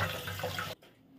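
Cold tap water runs in a steady splashing stream over cooked pasta in a kitchen, then cuts off abruptly, leaving a quiet room.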